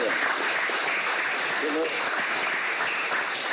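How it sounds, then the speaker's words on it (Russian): Dense applause fills a hall at a formal corporate meeting, a continuous steady wash of many hands clapping, with a voice briefly heard beneath it. "Аплодисментами."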